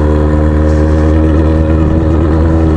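A Yamaha XJ6 motorcycle with a straight-pipe exhaust, its engine very loud and close, a raw continuous rumble with a slight rise in pitch partway through, and no talking.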